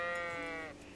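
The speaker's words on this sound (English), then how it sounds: "Shut up, sheep." A single sheep in a video game gives one fairly faint, wavering bleat of under a second, heard alone.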